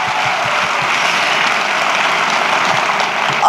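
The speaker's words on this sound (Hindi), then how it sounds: "तो एक बार जोरदार तालियां अपने लिए बजा लीजिए" A seminar audience claps loudly in steady, dense applause, continuous throughout with no voices over it.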